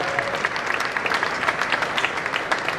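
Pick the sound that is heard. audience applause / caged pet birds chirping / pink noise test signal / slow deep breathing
audience applause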